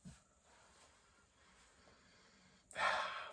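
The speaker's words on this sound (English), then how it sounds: "Just give the beer a sniff." A quiet room, then a short, sharp sniff of a coffee craft beer through the nose near the end, close and breathy.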